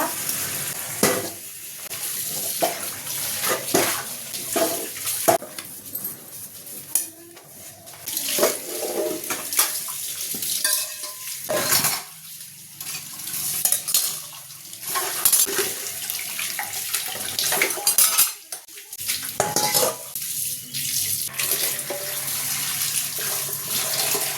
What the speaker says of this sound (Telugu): గిన్నెలు తోమేట గిన్నెలన్నీ తోమేశానండి